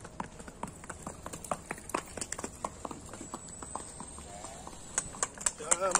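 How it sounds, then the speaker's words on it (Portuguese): Horse hooves clip-clopping on hard ground at a horse and livestock fair in Abreu e Lima, Pernambuco, a steady run of sharp close hoof strikes with crowd chatter and a brief whinny-like sound near the end. "Olha o cavalo aí."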